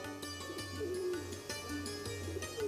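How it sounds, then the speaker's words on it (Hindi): A koel calls somewhere in a grove, its cooing notes repeating at intervals over steady tonal background music, moderately loud and continuous throughout. "कहीं कोयल कूक रही है।"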